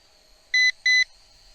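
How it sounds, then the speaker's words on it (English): A Dynalog DR-DG600C drone controller gives two short, clear electronic beeps in quick succession over a faint steady hum. "you hear it beeping in between there"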